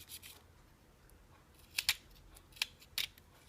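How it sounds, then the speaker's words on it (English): Scissors snipping excess plastic off a Tamiya Mini 4WD part, several quiet sharp cuts in two pairs and singles against a faint room hush, close and alone. "Cut off the extra parts"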